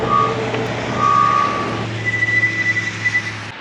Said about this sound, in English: Only issue I have is the brakes got really squeaky.